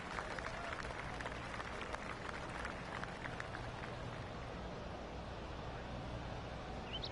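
Crowd applause and cheering for Tony Finau on the par 5 11th hole in the PGA 2K25 golf video game, a steady, dense wash of clapping that holds evenly throughout.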